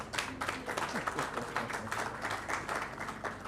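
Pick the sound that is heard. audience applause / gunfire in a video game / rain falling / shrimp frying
audience applause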